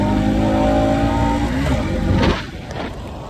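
A motorcycle engine roars loudly up close, its pitch climbing under acceleration before it quickly fades away.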